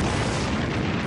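Torpedoes exploding against ships make one dense, loud booming blast that fills the whole moment with rumbling roar.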